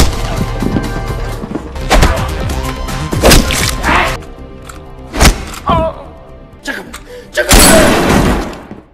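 Gunfire in a tense action-film scene: several sharp, loud bursts ring out at irregular intervals, mixed with heavy thuds, smashing impacts and a dense, busy soundtrack underneath.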